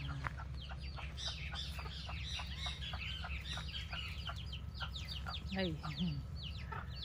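A hen clucks low and softly as her five chicks return home with her, their dense, rapid high peeps filling the background of a quiet farmyard, with one brief spoken word near the end.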